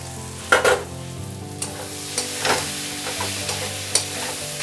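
Fried soybean chunks and potatoes stirred into sizzling masala in a pan, a steady sizzle and frying crackle broken by several sharp scraping stirs of the spoon, close and clear with no talking.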